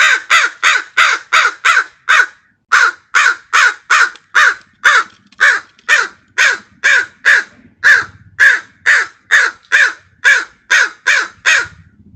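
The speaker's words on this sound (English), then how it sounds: "The camera also let me hear several calls, which I didn't know were made by crows." Crows caw loudly in a long, steady series of harsh calls, one after another with a brief pause early on, close and clear with no talking.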